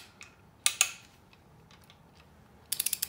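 A ratchet torques bolts on a 5.3 LS timing cover, sharp metallic clicks arriving in two short bursts, a couple of quick clicks early and a rapid run of four or five near the end, close and crisp with quiet between.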